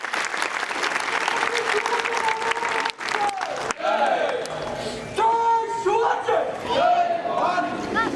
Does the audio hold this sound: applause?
yes